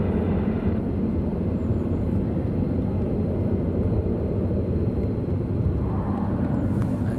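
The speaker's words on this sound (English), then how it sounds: "that's nearly the whole squadron of F-16s have gone up" Distant F-16 fighter jets taking off at RAF Lakenheath produce a steady, broad low roar that holds at an even level throughout, with no voices.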